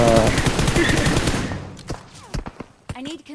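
Rapid automatic gunfire from the Free Fire mobile shooter game rattles loudly in a dense burst, then breaks into scattered single shots and game effects, with voices talking over it.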